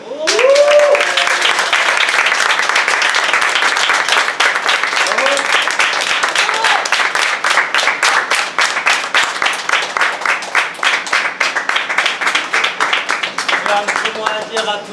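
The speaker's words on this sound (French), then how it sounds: "applaudir à tout le monde." A film crew bursts into sustained applause at the wrap of a short-film shoot, dense clapping from many hands filling the room for the whole stretch, with a few voices calling out over it.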